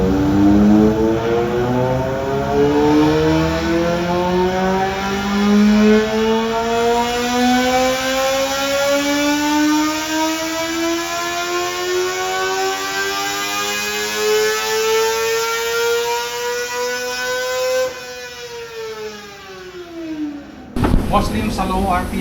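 A 2025 Kawasaki ZX-4RR motorcycle engine revs on a dyno, its pitch climbing steadily in one long pull before dropping off sharply near the end. Loud and close, with a voice talking over it.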